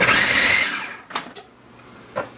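A blender or food processor whirs loudly as it beats cheesecake batter for about half a second, then cuts out, followed by a few sharp knocks and clanks.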